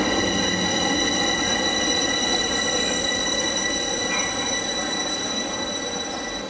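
Loud, steady rumble of a train at Bucharest's main railway station, with high metallic whine and squealing tones, continuous throughout, heard up close.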